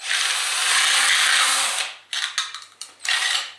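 A power drill runs continuously as it widens a hole to half an inch, a loud, steady high whine for about two seconds, followed by several short bursts as the trigger is pulsed.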